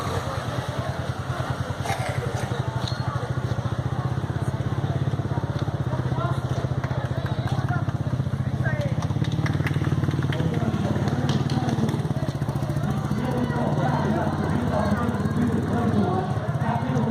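Motorcycle engine running loud and continuous while the bike is held in place at a bonfire race event, with a steady low rumble throughout and voices talking over it.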